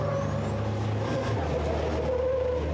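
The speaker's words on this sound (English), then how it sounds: "Rumble of trucks" Racing trucks at a European Truck Racing Championship round in Hungary rumble steadily with deep engine drone and a rising whine, close and continuous.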